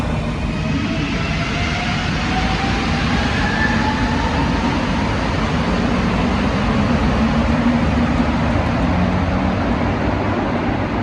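Loud, steady rumble of a subway train on the rails, continuous and close throughout with no talk, the roar holding even from start to finish.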